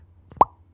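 A single short vocal "pew"-like pop imitating a gunshot for the video game ROV, close and fairly loud, with a brief quieter click just before it.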